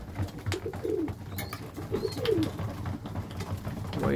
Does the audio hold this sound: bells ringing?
no